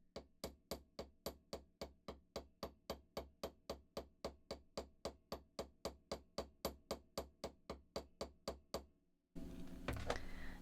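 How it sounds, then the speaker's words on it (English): Steady series of about thirty sharp hammer blows flattening wire into a paddled end for a gemstone chip tree of life pendant, struck at an even quick rhythm, close and loud, then a brief rustle as the hammer is set down. "I'm dropping the hammer and dragging as I go, so it should look like a J as I'm hammering."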